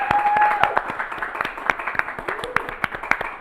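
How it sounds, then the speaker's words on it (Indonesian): An audience at an Indonesian talk show applauds with sparse, uneven claps that thin out over a few seconds, fairly close, with some voices mixed in. "tepuk tangan untuk kita semua."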